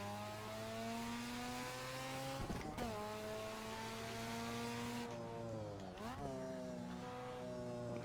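A Group C touring car in Assetto Corsa pulls hard through its gears, the engine rising steadily in pitch with brief drops at each gearchange, plus a short squeal of tyres, heard close up from the cockpit.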